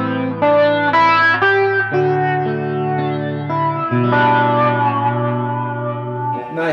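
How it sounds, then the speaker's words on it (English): An electric guitar runs through a modulation pedal set to slow flanging, its chorded notes ringing with a sweeping, swirling shimmer and reverb tail, played alone without talk. "it kind of is in charge of doing some very slow flanging"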